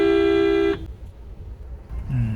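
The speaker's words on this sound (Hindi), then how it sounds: "हॉर्न मारता हूँ, देखता हूँ।" Car horn on an Indian highway near Patna, honked in one long steady blast that cuts off, with road and engine rumble continuing beneath and a lower horn tone starting up again at the end.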